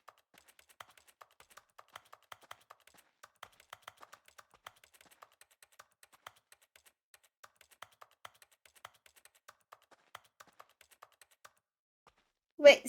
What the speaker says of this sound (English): I love the fact that this button makes typing noises